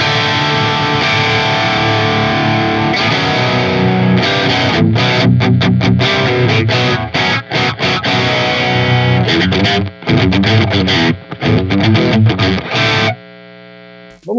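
A high-gain electric guitar through a Marshall JCM amp sim with an Edge 1 impulse response plays heavily distorted, palm-muted chugging riffs with sustained chords, loud and dense, ending in a ringing chord that cuts off.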